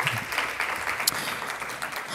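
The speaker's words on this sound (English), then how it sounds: "Let's give her a warm round of applause." An audience applauds a speaker at a discussion panel, a moderately loud, steady wash of clapping lasting a couple of seconds.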